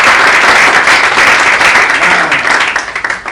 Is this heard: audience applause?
yes